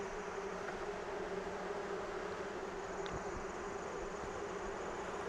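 Honey bees buzz in the crowded chamber of an American AZ hive, a dense steady drone close by, continuous and unbroken with no voices.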